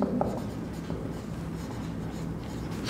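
Chalk or marker scratching steadily across a board during an English lesson, continuous close rubbing strokes with no pauses.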